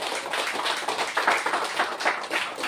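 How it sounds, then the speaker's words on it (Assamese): Crowd hand clapping during a charismatic prayer gathering, a dense continuous patter of many hands beating steadily without pause, loud and close. "বল আমি তালি বাজাই"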